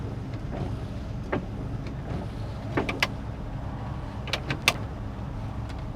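The windshield wipers of a 1969 Plymouth GTX with a 440 engine sweep back and forth, giving soft rhythmic clicks and thumps about every second and a half over a low, steady rumble.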